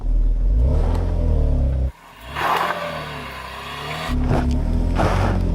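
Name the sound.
SUV engine revving while climbing an off-road slope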